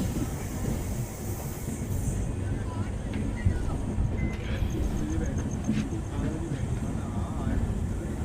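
Ramnagar Dehradun Express rolling slowly into platform number 4, a soft continuous rumble and hiss of the carriages with faint clatter, heard under a speaking voice.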